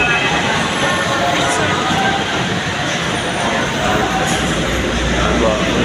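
Loud, steady rumble of an LRT light-rail train in motion on a ride toward Makati, with continuous broadband roar and occasional faint clicks, voices of passengers murmuring underneath throughout.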